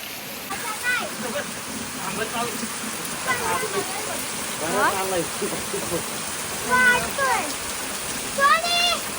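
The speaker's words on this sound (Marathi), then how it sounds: "खूप पाऊस आला जोरात" Heavy rain pours in a constant close hiss while a person talks intermittently over it.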